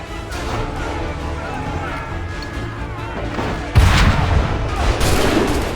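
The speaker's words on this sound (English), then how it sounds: "A perfect shot." Musket gunfire in the Assassin's Creed III battle of Monmouth, with rumbling battle ambience before a sudden loud volley of shots near the end, under game voices.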